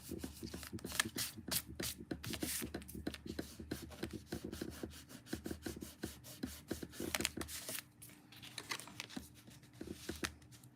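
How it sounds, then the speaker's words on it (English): Tape being peeled and pulled off paper while card-making, a close, continuous run of rasping, crackly rips and rubs in short bursts with brief pauses, no speech. "Now I can just get the tape off."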